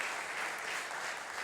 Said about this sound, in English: A big round of applause, of course, to our wonderful judges, Mr. David Ivory, Byron Jones and Mr. Andy Q